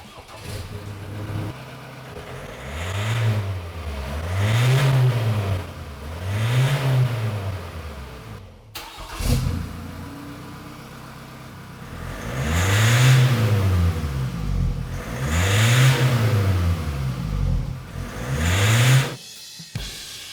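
A Ford Ranger pickup engine with a stainless steel exhaust is started, then revved repeatedly in rhythmic bursts, the exhaust rising and falling in pitch, loud and close, with brief idle between.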